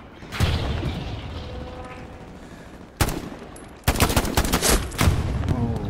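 Combat sounds in the World War II shooter Hell Let Loose, with sharp gunshot bursts and heavy booms over a rumbling mechanical tank-engine drone, loud and close, in irregular volleys.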